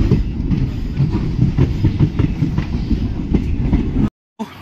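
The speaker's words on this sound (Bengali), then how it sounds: "ধর্মনগরে আমাদের ট্রেন এসে পৌঁছেছে 2 নম্বর প্ল্যাটফর্মে।" A passenger train pulls into platform 2 at Dharmanagar station, giving a steady loud rumble and rattle of rolling carriages that cuts off abruptly near the end.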